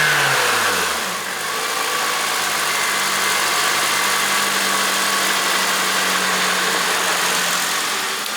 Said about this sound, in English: give it a couple pumps, you guys can hear the induction noise